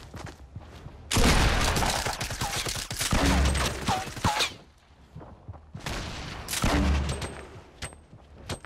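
Grenades and gunfire being shot in Fortnite Battle Royale, two long loud sustained bursts of rapid fire and explosive booms separated by a short lull.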